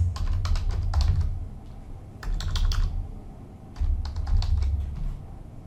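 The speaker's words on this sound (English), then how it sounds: "Then you type select star" Bursts of rapid typing on a computer keyboard while entering a database query, with clusters of close, crisp key clicks separated by short pauses.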